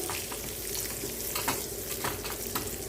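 Cashew nuts fry in ghee in a thick-bottomed pan, a dense, even crackling sizzle that stays loud and close throughout, with faint scraping from a spatula now and then.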